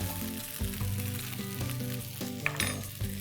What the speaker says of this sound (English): Saute this well